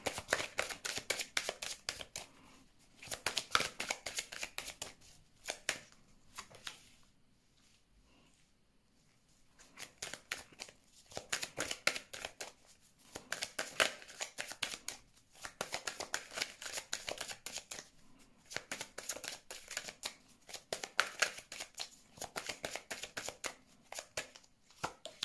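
Tarot cards shuffled by hand during a love reading, a steady run of soft riffling and slapping with one brief pause, close and fairly quiet, no talking.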